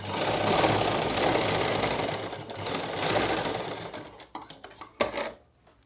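Salwar waistband being stitched on a sewing machine, a steady whirring run of stitching that slows into a few short bursts and stops near the end.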